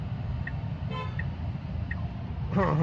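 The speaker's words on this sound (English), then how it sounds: "Someone honked at me." A car horn honks briefly at a Tesla stopped at a red light, a short tonal blast about a second in over steady road and cabin noise, with a louder burst of traffic near the end.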